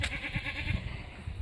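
A goat on a small permaculture farm gives a short, fairly faint bleat over low background rumble.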